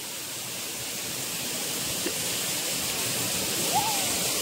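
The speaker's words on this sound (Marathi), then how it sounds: "काय पाण्याचा मस्त आवाज आहे" Kapildhar waterfall roaring as a steady, loud, broad rush of falling water, continuous throughout, with faint voices at a picnic in the background.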